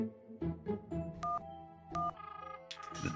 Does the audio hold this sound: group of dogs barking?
no